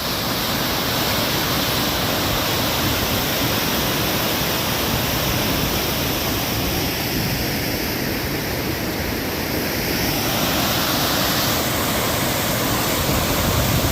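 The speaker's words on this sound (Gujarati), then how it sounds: "કેટલો ઓવરફ્લો જતા દોઢ ફૂટ નો ઓકે એ ભાઈ પાણી જો વાંચવા બહુ વરસાદ પીડ્યો" Heavy rainfall-fed water spilling over a dam, a loud, steady broadband roar of rushing overflow, close and continuous throughout with no voices.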